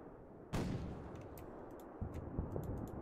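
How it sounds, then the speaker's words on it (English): Mortar fire in the WWII video game Combat Mission: Final Blitzkrieg, Battle for Chaumont: a sudden loud blast, then a rumbling tail and a second thump with scattered sharp cracks over a steady battle din. "I can hear mortars."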